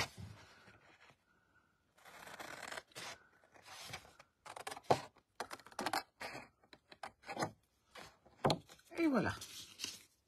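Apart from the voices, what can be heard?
scissors cutting card along the fold line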